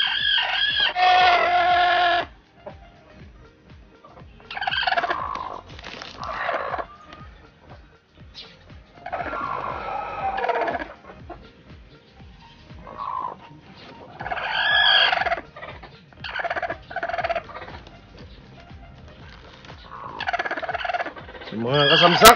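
Bursts of fowl calls from a Rhode Island Red and native hen, clucking and gobbling, come and go in uneven clusters with quieter gaps, close by.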